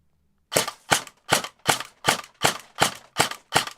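An airsoft gun fires a rapid full-auto burst, about nine sharp cracks in steady rhythm, loud and close with no talking, after an upgrade that removed its gear whine.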